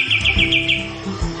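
A caged cucak cungkok bird gives a quick run of about five bright, evenly spaced chirps, close and clear, over a low background hum.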